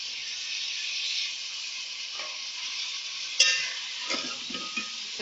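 Minced meat for fry qeema sizzles with tomatoes in a pan, a steady close hiss with a few sharper stirring clatters and scrapes toward the end.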